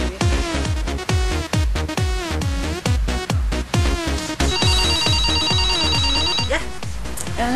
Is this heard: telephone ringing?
yes